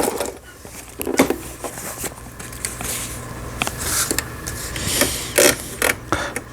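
A repaired Lion 1412 household sewing machine running, with uneven mechanical clattering, creaks and rhythmic needle bursts that grow busier toward the end, fairly close and with no talking.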